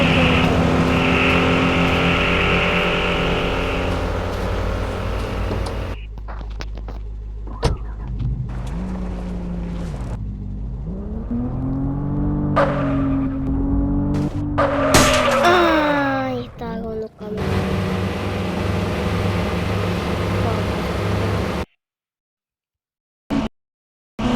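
Car engine from the MadOut 2 driving game, revving and changing pitch as the car accelerates and turns. It stays loud and continuous for most of the stretch, then cuts out briefly near the end.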